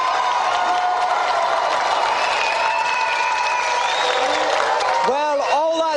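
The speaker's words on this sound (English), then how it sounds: "Another round of applause for David Finch." Studio audience applause on a retro games TV show, dense steady clapping sustained throughout, with a few whistling tones over it and a brief burst of cheering near the end.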